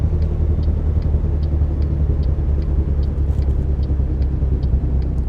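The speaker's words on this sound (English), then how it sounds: "Listen to that nice Jake brake" Truck Jake brake engine braking in American Truck Simulator, a steady low rumbling drone with a faint rapid ticking pulse on top, continuous and fairly loud with no voices.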